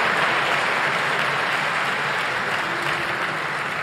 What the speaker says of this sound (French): Il y avait quand même des gens qui ont beaucoup applaudi.